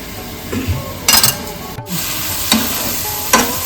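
Spices for a village-style chicken biryani, with bay leaf and cinnamon, stirred and sautéed in a pot. A few scraping stirs sound over a steady low sizzle, close and moderately loud, with no talk.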